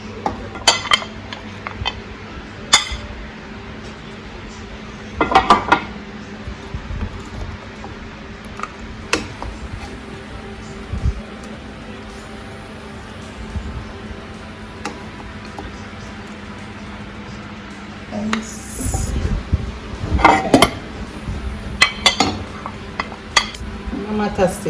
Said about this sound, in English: I'm gonna be plating out a plate of food